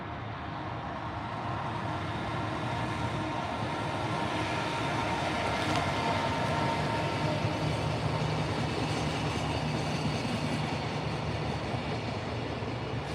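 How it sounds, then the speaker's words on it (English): A freight train passes close by with a loud, continuous rumble and roar of railcars that holds steady throughout, carrying a faint clatter of wheels. "Freight train."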